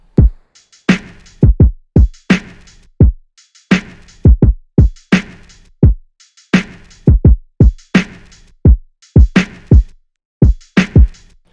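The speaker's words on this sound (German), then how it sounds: "Dann habe ich über das Ganze ein Drum-Pattern gelegt." A steady drum pattern: punchy low kicks and sharp snare-like hits repeating in a tight rhythm, loud and dry, with no other instruments.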